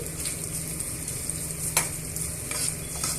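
Sliced onion and other ingredients sizzle steadily in a frying pan for beans fry, a continuous hiss with an occasional soft scrape of a spatula, close and even.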